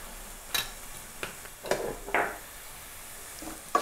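Turmeric powder gets stirred into a hot pan for chicken curry, heard as a few soft scrapes and light taps over a faint sizzle, spaced irregularly and close by, with no voices.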